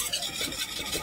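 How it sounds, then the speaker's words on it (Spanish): A spatula stirs thickening natillas custard in a pot, a brief soft scraping and swishing texture up close, with no talking. "Lo voy a seguir batiendo"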